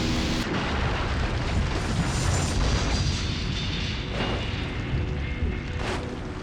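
An Antonov An-32B airliner overrunning a runway and exploding into a crowded open-air market, heard as a sustained loud roaring, crackling blast of noise that barely fades across the whole stretch.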